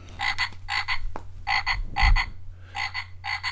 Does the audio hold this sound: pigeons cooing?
no